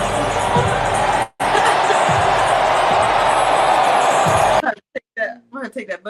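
Crowd cheering and clapping from a soundboard button, loud and continuous for about four and a half seconds with a brief cutout, then cutting off abruptly into voices talking.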